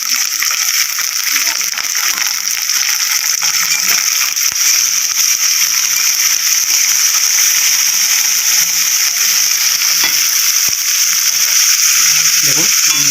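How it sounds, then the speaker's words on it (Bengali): Minced chicken frying with onion in a pan, a steady loud sizzle lasting throughout, with occasional scraping and stirring clicks. "যে চিকেনটা আমি কিমা করে রেখেছিলাম এটা পেঁয়াজের সাথে আমি ভালোভাবে ভেজে নেব"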